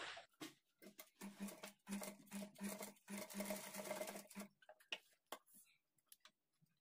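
Sewing machine with a single foot stitching across cloth folded over thread for piping, a close rapid ticking needle rattle over a motor hum in short bursts, then fading into a few scattered clicks.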